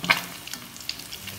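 Catfish frying in hot oil, a close, continuous sizzle and crackle with small pops and a brief stir.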